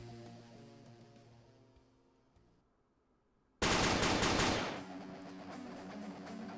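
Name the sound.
gunfire in a video game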